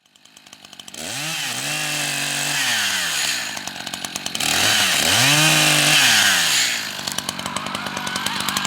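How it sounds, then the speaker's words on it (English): A chainsaw, freshly fitted with a new chain and bar, runs loudly and close, its engine revving up and dropping back to idle several times over the course of the clip. "Change out the blade and the bar on this chainsaw."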